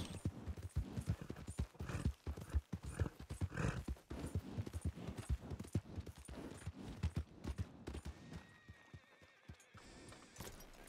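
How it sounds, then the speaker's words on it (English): Horse hooves clip-clop in a steady trot through Red Dead Redemption 2, loud and close, with occasional whinnies and snorts mixed in before the pace eases near the end. "Wait for me here, horsey."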